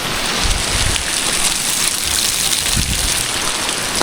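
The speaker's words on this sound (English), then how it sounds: "Now we are under the waterfall, under the beautiful big waterfall." Heavy water pours down steadily from a big waterfall beside Death Road in Bolivia, a loud, continuous broadband roar with no pauses, like constant rain, and no talking.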